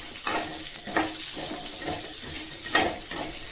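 Finely cut radish sautéed in a pan for spicy chutney, a soft continuous sizzle broken by occasional scraping stirs, close and fairly quiet.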